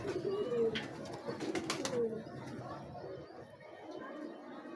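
Ferozpuri pigeons coo in a loft, soft throaty coos near the start under general chatter and background noise, with people talking nearby.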